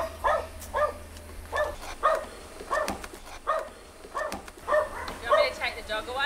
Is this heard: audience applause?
no